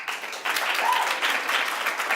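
An improv theater audience claps together for a couple of seconds, a dense burst of applause that starts abruptly and holds steady.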